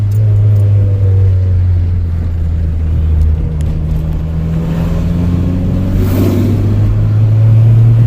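A turbocharged MK3 car with an ABA engine pulls hard in third gear, its steady droning engine rising in pitch over several seconds, heard loud from inside the cabin.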